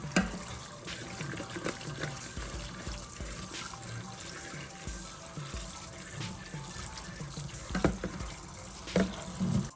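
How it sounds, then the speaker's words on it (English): Fresh jalapenos are rinsed under a running kitchen tap, water splashing and trickling steadily with small bursts as the peppers are handled, fairly quiet and with no one talking. "now we got the jalapenos all washed up"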